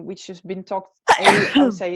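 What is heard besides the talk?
sneeze during a podcast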